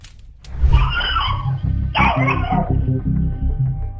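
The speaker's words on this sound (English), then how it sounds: "his pets barking frantically" Dogs bark repeatedly and excitedly close by, a rapid run of yips and barks with barely a pause.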